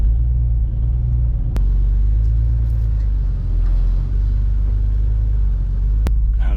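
A daily-driver car idles and rumbles steadily at close range while towing a Nissan Z by chain, a low constant engine drone with two brief sharp clicks.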